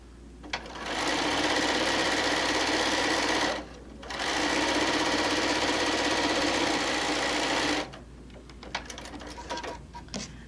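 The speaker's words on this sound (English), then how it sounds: "line it up, and we're just going to sew right along." A sewing machine stitches a quilt made from a panel in long continuous runs, a steady close mechanical whir that pauses briefly between two stretches and then gives way to softer handling clicks.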